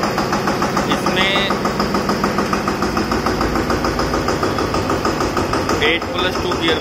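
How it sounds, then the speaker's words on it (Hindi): An Eicher 188 tractor with an 8+2 gearbox runs its small engine in a steady, loud, rapid chugging putter, with brief chirpy squeaks over the rhythmic knocking. "ट्रैक्टर की आवाज़ कितनी शानदार है।"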